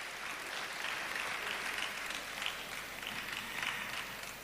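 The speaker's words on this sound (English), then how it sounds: "Let's hear another round of applause for His Excellency," A large audience at an official event in Yobe State, Nigeria, applauds the Deputy Governor with steady, even clapping that sounds somewhat distant and held at a constant level.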